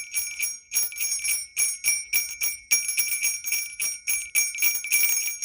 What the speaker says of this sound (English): you get that little irritating jingle from bear bells